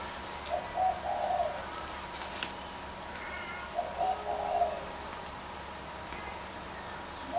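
Pigeons or doves coo in a museum: two soft, low bursts of cooing a few seconds apart, fairly faint against a quiet indoor hum, with no talking.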